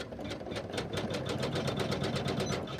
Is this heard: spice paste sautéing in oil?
no